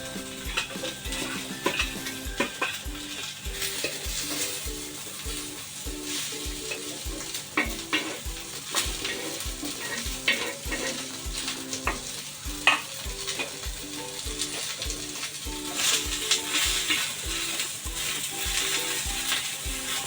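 Onion fries in oil in a pan for a Maharashtrian drumstick curry with black masala, a continuous sizzle with rhythmic scraping strokes of a spatula throughout, close and moderately loud.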